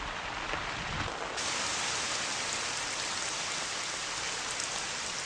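Rain patters steadily on surfaces, a close, even hiss of drops that holds unchanged throughout with no voices.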